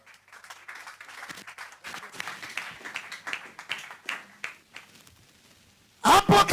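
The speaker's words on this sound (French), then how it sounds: "On acclame pour l'éternel." Congregation clapping for the Lord in church, scattered irregular applause of many hands rising and thinning over several seconds, then a sudden loud burst of sound at the close.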